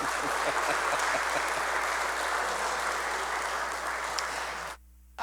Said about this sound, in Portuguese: A poetisa agradece as palmas